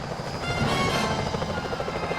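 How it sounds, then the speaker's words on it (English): Security helicopters in the video game Sly Cooper: Thieves in Time, a close, steady rotor thrum with rhythmic chopping pulses holding at an even level throughout. "Those security choppers are bad news."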